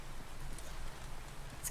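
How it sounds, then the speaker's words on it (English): Rain in the video game Coral Island falls as a steady, loud, even hiss with no talking. "It's kind of loud, the rain."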